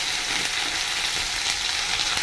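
Tomato pieces dropped into a pan of spices frying in oil with salt and turmeric, giving a steady, close hiss and sizzle that runs throughout with no pauses.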